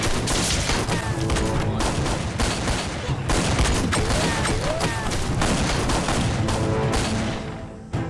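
Dense rifle and machine-gun fire roars through a battle scene in an anti-Japanese war action drama, with rapid overlapping shots and cracks that stay loud and sustained for several seconds before easing off.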